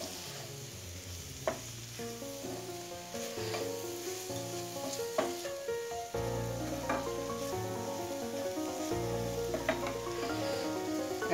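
Capsicum and brinjal thoran being stir-fried in a pan on a gas stove: a steady close sizzle with repeated scraping and clinking from stirring throughout, no talking.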